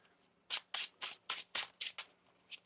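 Tarot cards are shuffled by hand in quick riffled bursts, about seven short crisp flutters in a row, close and quiet with no talking.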